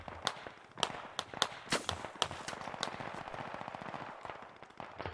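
Bursts of enemy gunfire in the SquadOps military shooter game, sharp repeated shots and rapid volleys crackling at varying distances, loud cracks over a continuous rattle of fire.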